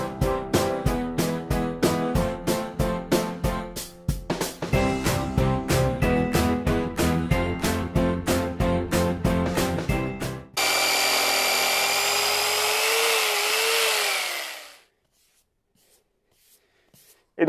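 A power saw cuts a floor tile resting on a wooden block: a fast run of rhythmic grinding strokes, then a sustained loud whine for several seconds that spins down into silence.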